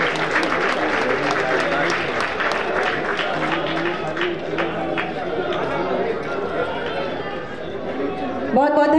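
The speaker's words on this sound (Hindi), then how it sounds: "इन सब के लिए, इन बच्चों के लिए जोरदार तालियां बजाइए मित्रों।" A crowd at the Gomti Nagar railway station inauguration in India applauds schoolgirls being honoured by the defence minister; brisk clapping mixes with loud chatter and voices, fading slightly before a louder burst at the end.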